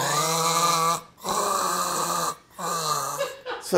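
Loud rasping snores repeat in three long drawn-out pulls separated by short pauses, close and throaty, apparently a voice imitating snoring.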